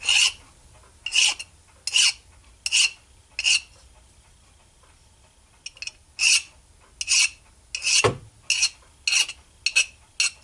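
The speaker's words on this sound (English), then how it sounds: "We still got a little deburring to do here." Hand file rasping across a machined metal weight hook to deburr it, a series of loud, close, evenly spaced strokes with short pauses, a brief gap midway, then quicker strokes.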